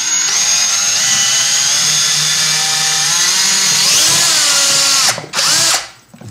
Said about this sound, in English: we'll go ahead and drill a hole